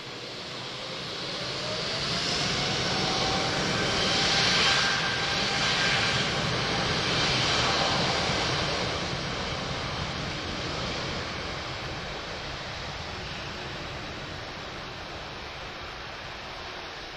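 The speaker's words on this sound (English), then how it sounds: "Beautiful TAP A330 Neo." TAP Airbus A330neo jet airliner at Lisbon Airport, its engines building into a loud roar that peaks midway with a faint whining tone, then slowly fades away, with no one speaking.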